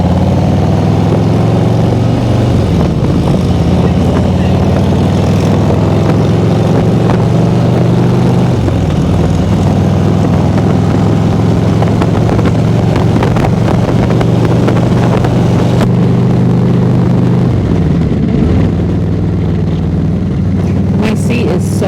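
Motorcycle engines drone continuously at Daytona Bike Week, heard from a bike on the move amid loud wind rush, with the engine pitch dipping at a few points as the rider shifts or slows.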